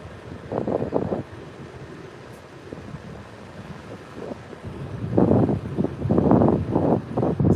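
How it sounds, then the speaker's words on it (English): Gusts of wind at a beach buffet the microphone in rough, uneven bursts, quieter early on and then swelling into louder, sustained roaring rumbles near the end, with no voices. "Seems like the wind calmed down a little bit."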